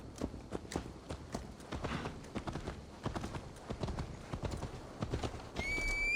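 Hooves clip-clop in a brisk, regular rhythm as a horse is ridden in Assassin's Creed Valhalla on PS5, with a short whinny near the end and faint game ambience beneath.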